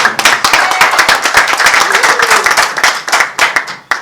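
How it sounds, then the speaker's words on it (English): Audience applause at a press event in a hotel, a dense burst of many hands clapping close and loud, steady for several seconds before thinning out at the end. "A round of applause for Mr. Thomas."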